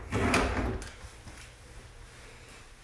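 A built-in bathroom vanity drawer slides open or shut with a short wooden rumble and knock, followed by quieter room tone and a faint click at the end.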